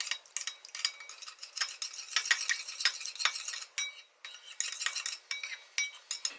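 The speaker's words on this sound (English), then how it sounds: "Gonna mix that and add it to my dry ingredients." Wet ingredients for sweet potato waffles stirred in a bowl, a busy run of clinking utensil scrapes and taps against the dish, close and steady with brief pauses.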